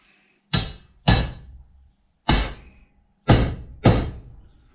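Five heavy metallic sledgehammer strikes ring out, driving a center punch into metal, two quick pairs around a single blow, each sharp impact followed by a short decaying ring.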